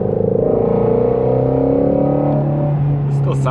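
Ford Shelby GT350 V8, running without its Whipple supercharger, revs steadily while driving, a loud sustained engine drone with a slowly rising pitch, heard from inside the car.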